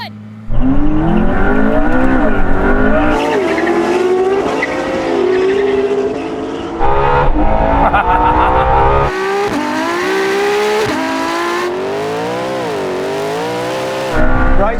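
LaFerrari, Porsche 918 and McLaren P1 supercars racing over a quarter mile, loud engines revving and climbing through gear changes with tire noise, close and sustained throughout.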